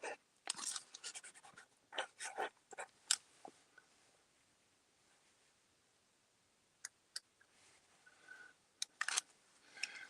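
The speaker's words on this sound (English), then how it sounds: "This is a really prickly fine nib in it, on it." A sterling silver fountain pen with a fine, flexible nib scratches across paper in quick, crisp strokes. The strokes come in busy clusters, then pause for a quiet stretch before a few more return, close and fairly soft.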